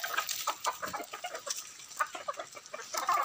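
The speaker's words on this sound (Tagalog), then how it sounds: "Maganda rin itong alagaan guys, yung mga manok na ito" Several farm chickens raised for keeping cluck in quick, uneven bursts, fairly close and moderately loud, with no talk over them.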